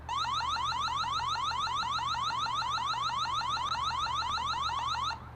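Wisecam battery-powered security camera sounding its alarm siren: a loud, rapidly warbling electronic tone repeating steadily for about five seconds, then cutting off, with no voices.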